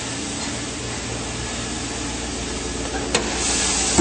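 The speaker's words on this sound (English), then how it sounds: "Under the hood, nice clean engine bay, running very smoothly." A 2004 Chevrolet Suburban LT 4WD engine idles steadily under the open hood, a smooth continuous hum and hiss, with a brief click near the end.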